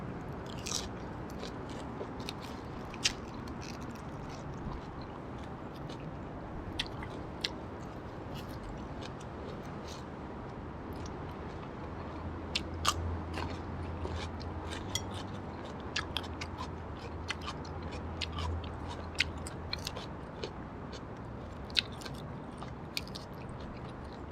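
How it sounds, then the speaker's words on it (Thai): Someone bites and chews crunchy fresh vegetables eaten with a Thai spicy shrimp salad, toasted rice and sticky rice: sharp close crunches and clicks scattered over a long stretch of steady background noise, with no speech. "ผักอันนี้กรอบดีดี"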